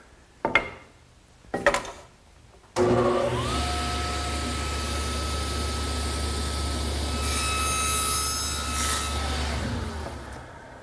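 A table saw cuts a tenon with the blade set 3/8 inch deep for an English garden bench: two short bursts, then a loud, steady motor whine and cutting roar that runs for several seconds before winding down.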